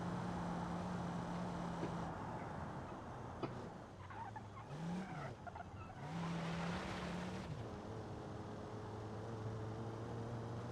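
A Volvo car in BeamNG.drive drives with a steady engine drone that rises and falls as it revs, its pitch dipping and climbing mid-run, with a faint tire-like hiss layered over it.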